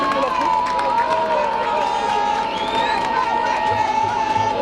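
A large crowd at a UDPS political rally cheers and shouts continuously, a loud unbroken roar of voices with scattered clapping, and a voice rises over the noise.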